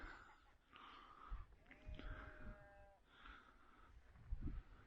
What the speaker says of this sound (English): Just a few sheep.